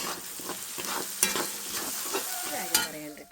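Onions sautéing in a pan with a continuous close sizzle, broken by two sharp scrapes or taps of a stirring spoon.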